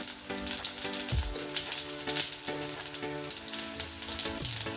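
Garlic, mustard seeds and cumin sizzle in hot oil with a steady crackling fry and scattered popping, close and continuous, with no speech over it.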